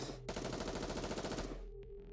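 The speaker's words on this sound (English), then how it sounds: "Soon after, there is a sound of gunfire." A rapid burst of automatic gunfire, a continuous rattle of closely spaced shots lasting about a second before cutting off to a low background hum.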